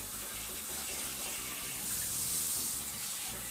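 Tap water runs steadily from a sink shower sprayer during preparation of a carp, a continuous broadband splashing rush that swells slightly midway, close and loud with no talk over it.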